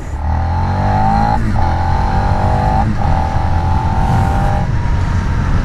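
A Suzuki SV650 V-twin motorcycle accelerating hard up through the gears, its loud, close engine note climbing steadily with brief dips at each of three shifts.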